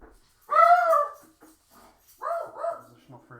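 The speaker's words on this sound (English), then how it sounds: "the dog is going to go crazy for a little bit" Indoor dog barking and whining as the mail arrives, two drawn-out, loud yelping bursts close by with quieter whimpers between them.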